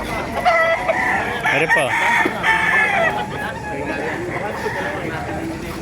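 Chickens and roosters cluck and crow at a busy poultry market in Baliuag, Bulacan, with a close rooster crow standing out over the steady clucking while people talk throughout.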